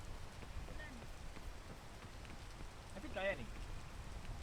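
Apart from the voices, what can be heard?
rain falling outdoors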